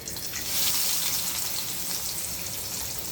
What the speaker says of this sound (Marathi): कांदा छान लालसर होईपर्यंत त्याला भाजून घ्या